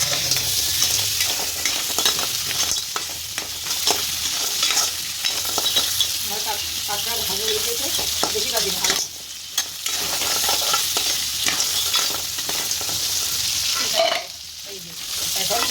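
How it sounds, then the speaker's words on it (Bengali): Onion and nigella seeds fry in hot oil while being stirred, a loud, steady close sizzle with scraping strokes running through it and brief dips where the stirring pauses. "এখন একটু কালি জিরে দিয়ে দিলাম ফোড়নে পেঁয়াজ তেলের দিয়ে দিলাম"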